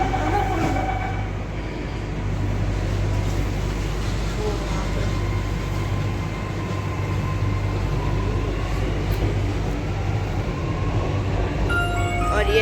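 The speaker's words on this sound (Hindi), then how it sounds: "सो गाइस अभी हम लोग मेट्रो में हैं और हम लोग जा रहे हैं KD6।" Riding a metro train in Lucknow, with a steady low rumble and rattling wheels throughout, continuous and close from inside the carriage.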